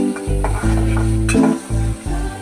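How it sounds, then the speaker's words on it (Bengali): Chopped tomatoes frying in a pan while being stirred, with a steady sizzle broken by repeated scraping strokes of the spoon, loud and close, and no voices. "এবার টমেটো কুচি দিয়ে দিয়েছি। আবার ভালো করে নাড়াচাড়া করবো"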